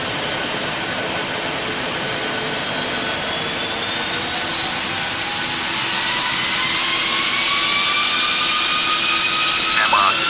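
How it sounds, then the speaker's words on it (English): Boeing 737NG jet engines spooling up to takeoff thrust, a loud, steady roar with whining tones climbing in pitch as power builds, heard from inside the aircraft. "Set takeoff thrust."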